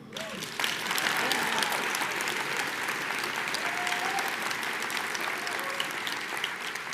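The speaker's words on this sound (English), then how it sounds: "Applaud that." Sustained applause from a large audience at an Oxford House convention general session, steady and dense throughout with a brief voice rising over the clapping near the start.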